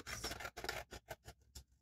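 Scissors cutting a temporary tattoo sheet down to size, several close, quiet snips and rasps in an irregular sequence that grow shorter toward the end.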